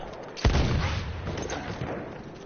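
A single loud rifle shot booms out in the Battlefield 1 video game, from a scoped Gewehr marksman rifle fired at long range, its sharp crack followed by a long rolling echo and decay that lingers under the rest of the clip.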